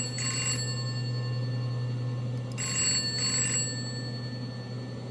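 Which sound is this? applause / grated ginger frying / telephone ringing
telephone ringing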